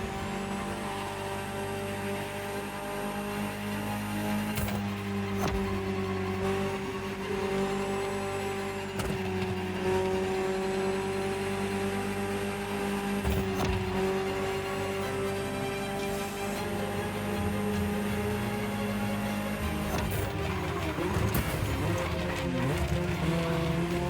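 A Ferrari 288 GTO engine in The Crew Motorfest drones steadily, with sustained tones shifting as it revs up and eases off through gear changes, loud and continuous across the whole run.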